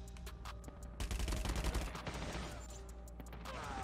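Automatic gunfire from an HG40 submachine gun in Call of Duty Mobile, a dense loud burst of rapid shots with a steady low rumble behind, then fading into scattered game effects.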